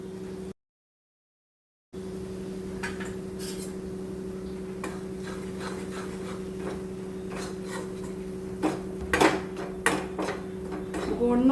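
Flour roasting in melted ghee in a pan for Gujarati gur sheera, stirred steadily with a spoon, giving soft rubbing scrapes and light clinks against the metal over a steady hum, with a few louder knocks near the end.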